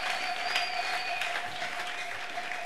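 A church congregation at an evangelical gathering applauds in a dense, continuous wash of clapping, loud and even throughout, with a faint sustained tone running beneath.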